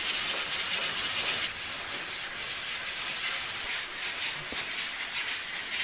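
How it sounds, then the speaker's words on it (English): A large sharpening stone is worked back and forth along the teeth of an old crosscut saw under restoration, giving a continuous loud abrasive rasping scrape with a slight rhythmic swell and no talk. "we're going to work this stone back and forth."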